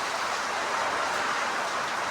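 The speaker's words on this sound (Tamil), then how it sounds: "இத்தனை நாளாக நாங்கள் எதிர்பார்த்துட்டு இருந்த மழை எவ்வளோ ஜோராக பெய்யுது" Heavy rain pours down steadily in a rural setting near cattle, a dense, even hiss with no breaks or voices.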